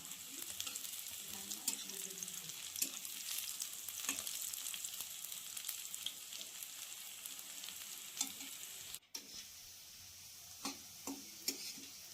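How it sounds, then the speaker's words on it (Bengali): Onions and dried red chillies fry in a pan with a steady, close sizzle and crackle lasting throughout, punctuated by a few scrapes and clicks of stirring, with no talk. "পেঁয়াজটা প্রায় হয়ে এসছে ভাজা ভাজা।"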